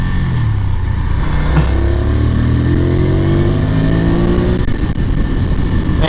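Ducati 620 Sport motorcycle accelerating on the road, the engine note climbing steadily in pitch through a gear, loud and close with wind rush behind it.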